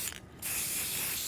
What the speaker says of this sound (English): spraying some white on the back